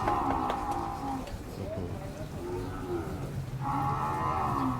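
Cattle mooing at a rural livestock market in Wang Prachop, Tak, with long, loud lowing calls near the start and end and busy crowd murmur and speech in between.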